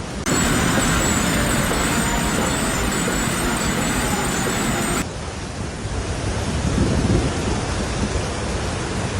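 Heavy rain pours down in a dense, loud roar during the Ganga flood in Varanasi, with thunder rumbling low underneath. No voices are heard, and the sound changes abruptly partway through.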